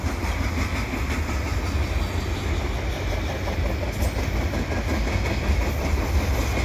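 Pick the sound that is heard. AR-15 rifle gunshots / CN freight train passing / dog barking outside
CN freight train passing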